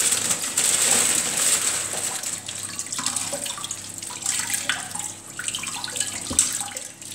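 Water from a kitchen tap runs onto a sheet of baking paper being wetted for roasting chestnuts, a steady splashing stream with crinkling and small clicks as the paper is moved under it, close and continuous.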